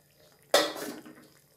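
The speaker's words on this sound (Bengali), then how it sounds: "এবার ঢাকাটা তুলে নিচ্ছি।" After a quiet moment, a lid is lifted off a cooking pot on low flame with one sharp metallic clatter. Steamy hissing and sizzling trail off as the pot is uncovered.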